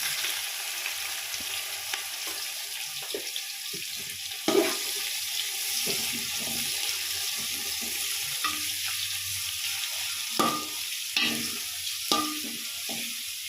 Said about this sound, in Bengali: পেঁয়াজগুলোকে লাল লাল করে ভেজে নেব।